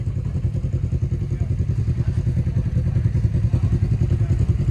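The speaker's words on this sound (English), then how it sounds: "Send a few quads through." ATV quads drive through rough off-road ground at night, their engines a steady close rumble with rhythmic clattering thumps throughout.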